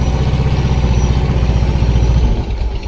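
A motorcycle engine with a new carburetor idles on choke just after a cold start, a steady close chugging rumble that holds even before easing slightly near the end.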